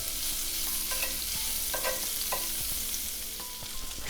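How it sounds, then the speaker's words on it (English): Shallot sautés in a pan with a strong, steady sizzle close by, marked by repeated stirring scrapes and soft utensil taps, and no voices. "Gonna saute that shallot."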